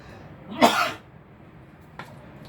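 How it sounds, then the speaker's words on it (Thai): One person's sneeze, a loud, close burst lasting about half a second, followed by a faint short exhale or sniff a moment later, with no talking. "โอ้จามแถว"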